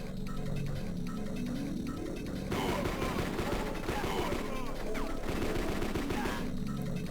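Rapid gunfire from the Game Boy Advance game kill.switch crackles in dense bursts over a steady electronic hum, starting midway and continuing to the end.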